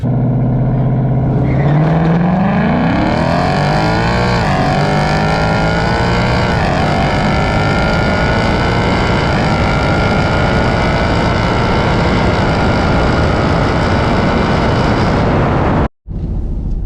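A 2024 Mustang GT launching at a dragstrip against a Scat Pack, engine roaring loudly as it climbs through the revs in a long continuous pull from near, then cutting off abruptly at the end.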